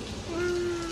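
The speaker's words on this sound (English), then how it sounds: "All you're hearing is the rain, the sound of the raindrops." Steady rainfall patters evenly throughout, a soft continuous wash of falling raindrops with a faint sustained tone running through the middle.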